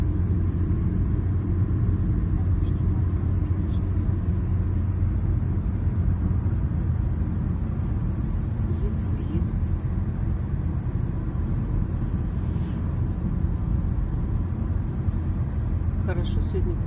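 A car travels along a road through a winter forest, giving a steady low engine and tyre rumble with wind noise that holds throughout, while people talk inside.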